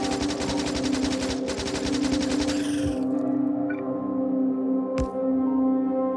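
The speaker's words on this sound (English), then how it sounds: "I start to pistol the last remaining medium biter in the base" Rapid pistol fire aimed at a medium biter in Factorio, a fast run of sharp cracking shots for about three seconds over a steady droning factory hum, then one isolated crack near the end.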